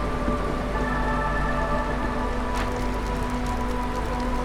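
Rain falls steadily in the colony-building video game Against the Storm, a dense, even patter of drops over a low hum, with faint musical tones and no voices.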